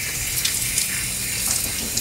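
Running water splashes steadily into a bowl as iguana meat is washed off outdoors, a continuous rushing stream with small sloshing variations and no talking.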